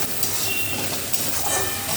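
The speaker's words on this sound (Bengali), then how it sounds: "সব দিয়ে এবার ভালো করে কষে নিচ্ছি।" Ground coriander, cumin and other spices sautéing in a pan for chilli paneer, a dense continuous hiss and sizzle, loud and close throughout.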